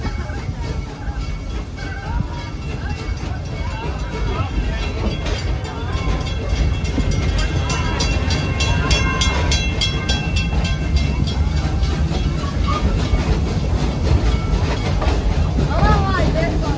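Busch Gardens Tampa Serengeti Railway park train rolling along the tracks with continuous rumble and rhythmic clickety-clack of wheels, close and steady, while a voice talks over it.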